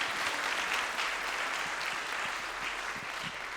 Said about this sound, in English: David, an applause for you.